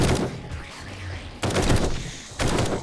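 Tactical rifle gunfire in the video game 7 Days to Die, with bursts of loud rapid shots separated by short pauses and faint background noise.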